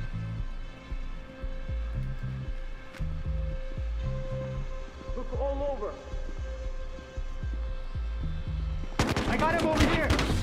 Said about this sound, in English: Oh god, I shot him.